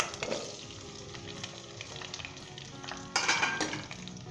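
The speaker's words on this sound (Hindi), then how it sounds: "अब हम इसके अंदर जो आलू डालेंगे और इसे फ्राई करेंगे" Potatoes sizzle steadily in hot oil for a Lahori aloo keema, a close, continuous frying hiss with a louder crackling surge partway through.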